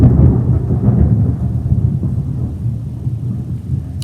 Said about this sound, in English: There's a big storm outside and